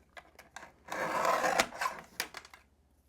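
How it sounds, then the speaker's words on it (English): A Gina K paper trimmer slices ThermoWeb 3D foam strips at close range, a few light clicks then a drawn-out scraping cut followed by more brief taps and clacks. "I'm going to take my Gina K trimmer and I'm going to cut these nice and"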